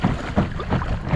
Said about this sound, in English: Wind has picked up